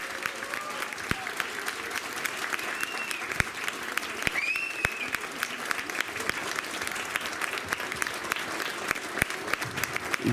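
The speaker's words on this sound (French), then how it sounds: "un tonnerre d'applaudissements." An assembly gathered for a primary school certificate ceremony applauds at length, a steady wash of many hands clapping with a few sharp individual claps standing out, while faint voices murmur beneath it.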